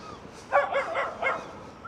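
A dog on a windy seafront on a cold morning gives a few short yips and barks in quick succession at moderate distance, over faint wind noise.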